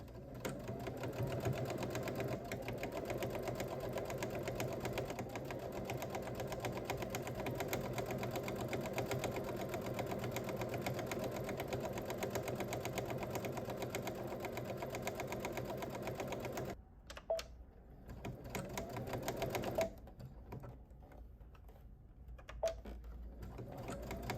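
Sewing machine runs a long, steady stitching whir for about seventeen seconds, then stops and gives a few short, intermittent bursts of back stitching, close and quiet with no voices.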